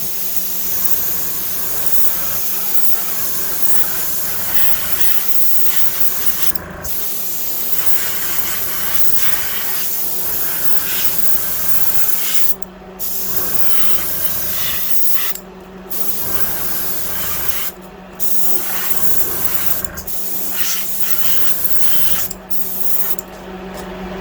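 Airbrush spraying a second coat of paint onto a fishing lure, a close, steady hiss running in long bursts separated by brief pauses, with no talking.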